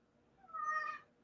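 A cat gives a single clear rising meow up close in a quiet indoor morning setting, with no one speaking.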